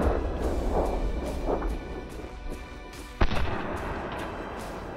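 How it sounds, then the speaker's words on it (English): A single .270 Winchester rifle shot with a Winchester Copper Impact 130 grain bullet, one sharp loud crack about three seconds in, standing out against steady background rumble. "it's time to heat up Slingin' Rick's 270 again, this time with the Winchester Copper Impact 130 grainer going down the tube. Let's fire around"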